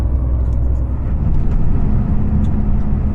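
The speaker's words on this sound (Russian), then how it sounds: "Контейнеровоз." A container truck passing on a snowy winter road, heard as a loud, steady low rumble of heavy engine and road noise close by, with faint higher clicks over the drone.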